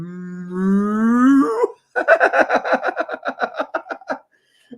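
A cow in a DS farming game gives a long, rising moo, followed by a series of short, bouncy chuckling sounds that trail off into silence.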